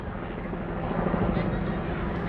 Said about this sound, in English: The helicopter up there.